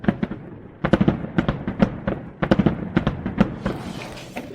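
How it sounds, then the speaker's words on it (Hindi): Fireworks bursting over a village celebration, a rapid irregular series of sharp cracks and pops, some in quick clusters, loud and fairly close with a crackling tail near the end. "आतिशबाजी।"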